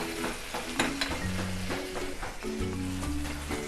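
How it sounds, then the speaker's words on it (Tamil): Ketchup and red chilli sauce with sugar and salt sautéing in a pan for honey chilli potato, with a steady close sizzle and repeated stirring scrapes throughout. "இதை நல்லா வதக்கிக்கலாம்."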